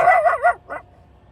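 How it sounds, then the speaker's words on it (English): A dog yips and whimpers outside a parked van in hot weather, giving a short, close, high-pitched vocal burst followed by a second brief yelp, then quiet. "I had to stop the video because Blue decided to start barking"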